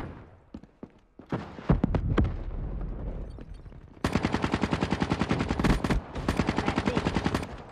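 Gunfire in the video game Black Ops 3: a few sharp scattered shots at first, then long loud rapid automatic bursts with brief pauses, with a short spoken line in German near the start.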